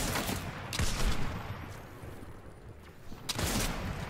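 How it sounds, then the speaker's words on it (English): Enemy gunfire in Fortnite Season 4: a few sharp broadband shots, one burst near the start and another later, with quieter scattered firing and game ambience in between, mid-distance and moderately loud. "they're shooting at me"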